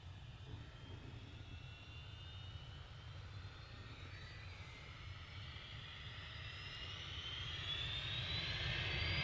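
A jet airliner departing from Manchester Airport, a steady roaring engine wash with a rising whine that grows louder as the aircraft climbs away, heard alone without talk.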